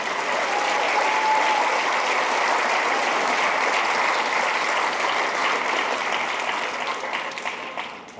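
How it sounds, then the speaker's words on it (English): A school concert audience gives a long round of applause for a student quintet, dense and even clapping from a full hall that holds steady and then thins slightly at the end. "have another round of applause for our quintet."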